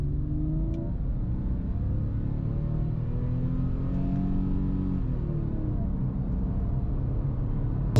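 Porsche 997 Carrera S with Tiptronic gearbox accelerating from inside the cabin, engine rising in pitch through several gears with audible shift drops between each, a steady close rumble under road noise.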